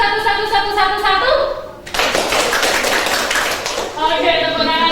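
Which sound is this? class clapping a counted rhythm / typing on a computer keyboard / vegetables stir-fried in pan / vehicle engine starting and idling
class clapping a counted rhythm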